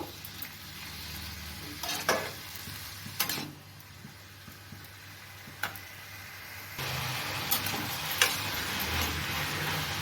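Cucumber curry (shukta) stirred in a frying pan, a continuous sizzle broken by several scraping spatula strokes and clinks, the frying growing louder toward the end, with no voices.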